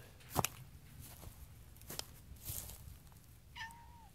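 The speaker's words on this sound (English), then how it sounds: "This is our Black Cat" A black cat meows once near the end, a short rising-then-falling call, with faint rustling and a few footsteps around it in a quiet outdoor winter setting on an off-grid farm.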